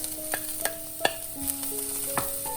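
Portobello mushrooms sautéing in a pan for vegan rainbow fried rice, a steady soft sizzle broken by sharp utensil clinks and scrapes at irregular intervals, close and moderately quiet, no voices.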